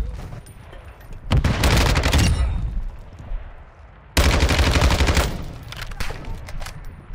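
Automatic gunfire fired through a window in Call of Duty DMZ, two loud sustained bursts of rapid shots separated by a quieter pause, each ringing out before fading.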